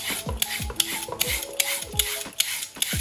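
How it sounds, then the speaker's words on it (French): Knife slicing a carrot into thin ribbon-like strips on a cutting board, a steady series of crisp cutting strokes roughly every third of a second, close and fairly quiet, with no talking. "faites des tagliatelles de carottes."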